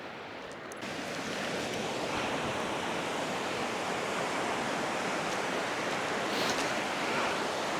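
Surf breaking steadily along a beach in Scotland below a headland, a continuous loud broadband wash of waves with light wind, rising just after the start and holding evenly throughout with no voices.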